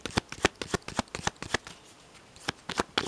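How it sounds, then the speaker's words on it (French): Tarot manouche cards are shuffled by hand in quick close riffles of sharp papery flicks, with a brief pause in the middle before the shuffling resumes. "Si je vous tire une carte, ça va être quoi pour nous ?"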